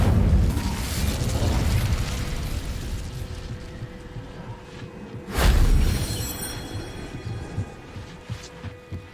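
Incendio fire spell cast in Hogwarts Legacy, a sudden loud fiery burst rising out of a low rumbling hum, with a fading crackling tail afterward.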